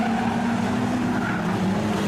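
A street stock race car spins around on the main straightaway at Kingaroy Speedway. Engine roar and a tire scrub fill the air as a loud, sustained, even drone with no break, and no voices are heard.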